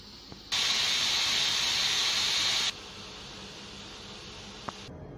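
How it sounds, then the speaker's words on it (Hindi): A pressure cooker that has been cooking black chickpeas releases steam in a loud, steady hiss for about two seconds, then it drops to a quieter, continuing hiss until a small click near the end. "अब जो है हम प्रेशर खोल लेंगे."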